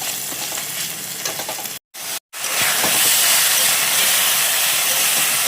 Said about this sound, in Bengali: পেঁয়াজ, রসুন আর শুকনো লঙ্কা একসাথে তেলে দিয়ে দিয়েছি, দিয়ে ভাজছি